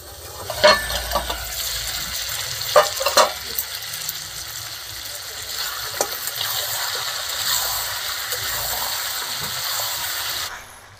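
Goat meat is sautéed and stirred in a pan, giving a steady soft sizzle with a few sharp scrapes and clinks of the spoon against the pan, fairly close, with no talking.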